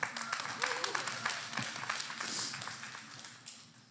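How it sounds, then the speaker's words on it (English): Audience applause at a session, a brief round of scattered clapping from a modest group that tapers off, with voices talking faintly underneath. "Give her a round of applause."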